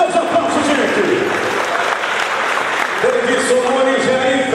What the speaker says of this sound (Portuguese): Cadê os aplausos, gente?